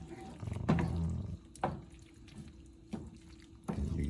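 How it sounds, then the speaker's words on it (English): Pasta being drained into a sink, water gushing and splashing in uneven surges with short lulls of dripping in between, close and moderately loud. "Let me drain this pasta."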